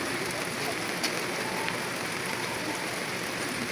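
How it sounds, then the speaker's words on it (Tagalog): Heavy rain falls steadily, a constant close hiss of drops on surfaces with a couple of louder drips, with no voices over it. "Lakas ng ulan mga ka-idol dito mga ka-idol"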